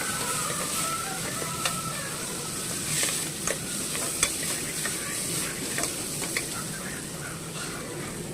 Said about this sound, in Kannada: ಈಗ ಕ್ಯಾಪ್ಸಿಕಮ್ ಸ್ವಲ್ಪ, ಒಂದು ಚಿಕ್ಕದು ಟೊಮೆಟೊ ಇಷ್ಟು ಹಾಕ್ಕೊಂಡು ಚೆನ್ನಾಗಿ ಫ್ರೈ ಮಾಡ್ಕೊತಾ ಇದ್ದೀನಿ